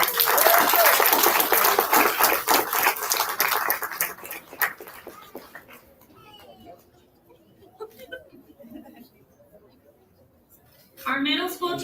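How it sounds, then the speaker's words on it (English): A loud burst of audience applause at a school board meeting fills the first few seconds, fades into scattered quiet clapping and murmurs, then another short round of clapping near the end. "let's give them one more round of applause"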